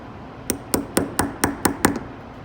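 Seven sharp metallic taps of a hammer on a small punch driving out a detent on a Sig Sauer MPX 9mm bolt carrier, evenly spaced and close, alone without talk.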